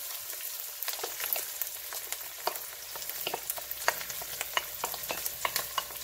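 Liver sizzling and frying in a pan with browned garlic, a steady bright crackle broken by sharp spatters and stirring scrapes, close up and without talk.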